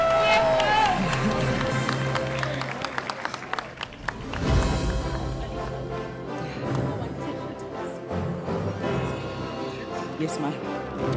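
Applause from the audience at the National Batho Pele Excellence Awards ceremony, a dense sustained patter of many hands clapping near and loud, with voices and some music mixed in beneath.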